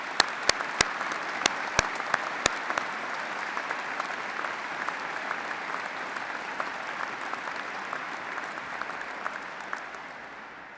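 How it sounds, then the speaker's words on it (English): Audience at a university graduation ceremony applauding the graduands, with a few sharp nearby claps at the start, then dense, sustained applause that fades near the end. "But may we all please start by applauding our graduands."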